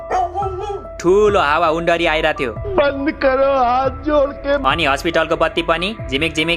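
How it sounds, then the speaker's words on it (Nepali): Several dogs bark loudly and repeatedly, yips and bow-wows overlapping in a dense close chorus as a comedy skit sound effect, with people talking over the barking. "कुकुरहरू जोड जोडले भुकिरहेको थियो"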